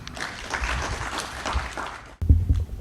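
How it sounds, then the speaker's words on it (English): Audience at a builders association event claps briefly and moderately, the applause cutting off abruptly near the end and followed by a short burst of close handling noise or movement. "Applause, please."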